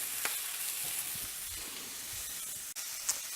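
Cubes of butter sizzling alongside baby potatoes in a cast iron skillet, a soft, even hiss with faint crackles and one brief clack near the end, fairly quiet and close with no talking.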